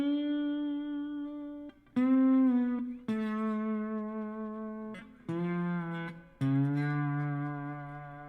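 A slide-over-string guitar lick played in open D tuning, a series of sustained electric-sounding notes with some slides between pitches, played alone and close.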